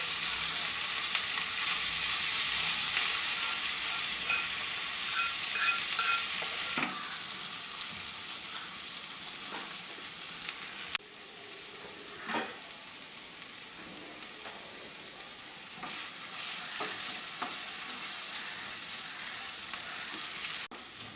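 Goat brain frying in a pan, a steady hiss and crackle that runs continuously with occasional stirring clinks and scrapes, fairly soft and close, with no voices.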